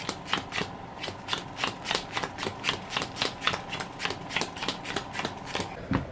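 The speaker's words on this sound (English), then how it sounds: "And then you deal out all the cards." Playing cards dealt out one by one at a poker-style table, a steady run of crisp snapping flicks about three per second, close and clear with no talk.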